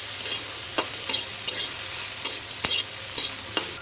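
Onion, garlic and green chili frying with lightly fried potatoes in a pan, a continuous close sizzle broken by several sharp scrapes and clinks of a stirring spoon.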